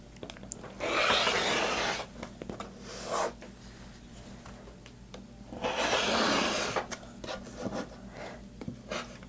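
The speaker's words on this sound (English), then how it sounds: "So I'm going to trim that" A fabric quilt block made from scraps is trimmed with two bursts of dry rubbing, rasping cutting noise separated by a quieter pause with light handling, close and fairly soft.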